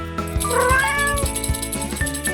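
A cat meows several times in a row, clear and close, with drawn-out rising and falling cries over a steady background.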